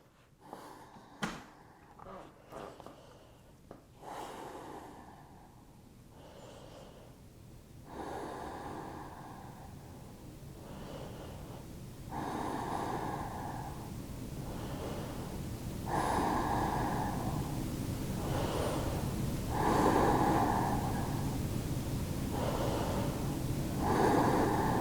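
Deep, slow breathing during a held yoga pose in a sun salutation flow, long drawn inhales and exhales repeating steadily, close and fairly loud, with a few sharp knocks and rustles near the start.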